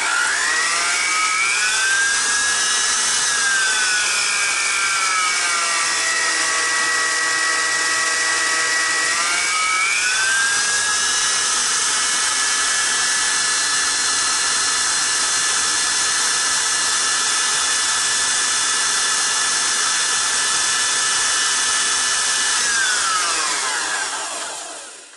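A stand mixer runs continuously, beating a white chocolate cream cheese buttercream, a loud, steady motor whine that shifts pitch with speed changes before winding down at the end.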